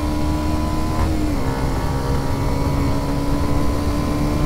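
Kawasaki Ninja 125 motorcycle engine accelerating hard on a 0-60 mph run, a loud sustained whine with a brief dip in pitch as it shifts gear partway through, then pulling on steadily.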